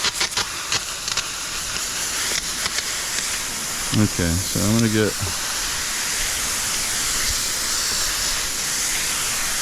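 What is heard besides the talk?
high-pressure water spray from hose while cleaning pool filter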